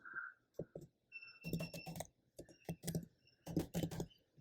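Bursts of computer keyboard typing come in quick irregular clusters of clicks with short pauses between, close and fairly quiet, with no talking.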